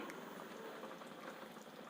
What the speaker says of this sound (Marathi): आता आपल्याला चिकन रसा कमी गॅसच्या फ्लेमवर पाच मिनटं चांगला उकळू द्यायचा आहे